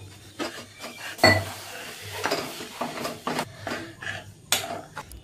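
A flour and ghee mixture for a Jagannath Ballav temple sweet, cooked with nutmeg, is stirred in a pan, giving intermittent scraping and rubbing strokes at close range with soft clinks of the utensil.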